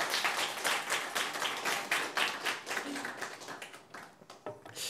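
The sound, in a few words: congregation applause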